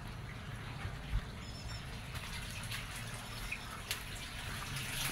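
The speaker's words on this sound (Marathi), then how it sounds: "पाणी आलेलं आहे." Water runs from a household tap at home in a faint, steady hiss that continues evenly throughout, with no talk.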